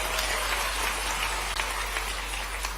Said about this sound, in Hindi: ताली बजाओ बेटी के लिए।